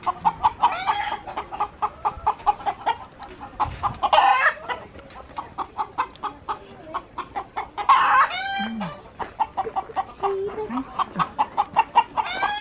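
Hens in a farmyard with olive trees cluck in quick, repeated bursts, with a few louder squawks in between, going on steadily at close range.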